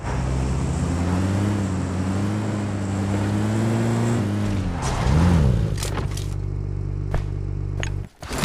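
A car in a shooter video game drives with a steady engine drone that shifts pitch, then breaks into sharp bursts and clatter before cutting out near the end.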